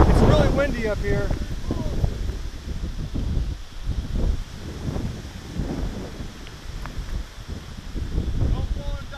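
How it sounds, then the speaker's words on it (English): Strong wind buffets an exposed lookout in Letchworth State Park, roaring in uneven gusts against the microphone, with rustling and a person talking over it near the start. "It's really windy up here."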